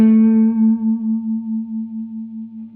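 One electric guitar note sounds in a blues lick over a shuffle in A, bent up toward the major third. It rings alone through chorus and echo effects and decays steadily with a slow warble.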